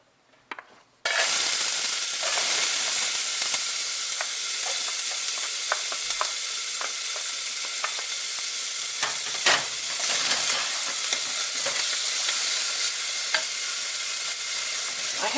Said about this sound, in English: I put about a teaspoon of olive oil in here. And I start off with onion.